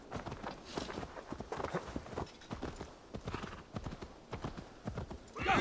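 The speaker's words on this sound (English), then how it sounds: "Let's call the horse." A horse in the Assassin's Creed Valhalla video game trots with steady clip-clopping hooves, fairly quiet and regular, with a brief whinny-like flourish near the start and a louder thump at the end.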